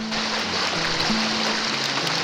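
Birch Creek runs low over a shallow, bony rapid, a steady broad rushing wash heard close and alone, with a faint low hum beneath.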